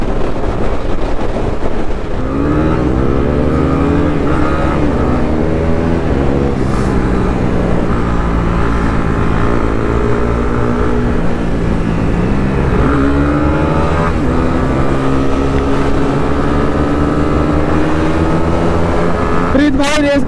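A loud Honda CB300R motorcycle engine revs and accelerates up through the gears, roaring close by with rising and falling pitch sweeps.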